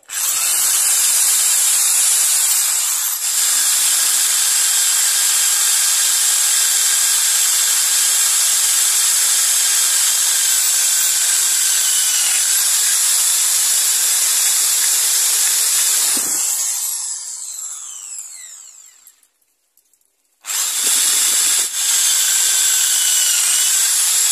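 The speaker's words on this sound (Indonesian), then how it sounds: "selanjutnya kita bor saja" A power drill whines loudly and continuously into a wooden hoe handle, pausing briefly near the end, then starting up again.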